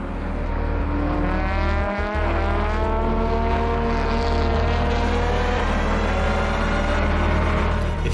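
Spec Miata race cars roar past a corner at a race start, a dense layered engine drone with many rising and falling pitches, loud and continuous throughout.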